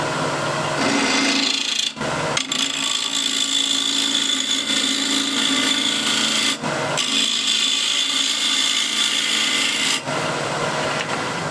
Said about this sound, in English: I'll use ball gouge.